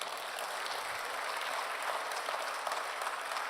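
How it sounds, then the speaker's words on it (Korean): Church congregation applauding to give glory during a sermon, a dense, even wash of many hands clapping at a moderate distance, no talk over it. "함께 박수로 영광 돌리겠습니다"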